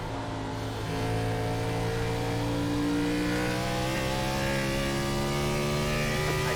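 Loud, close V8 roar from a NASCAR Cup car at Nashville Fairgrounds, the engine pitch climbing steadily as it accelerates down the straight, unbroken and without voices.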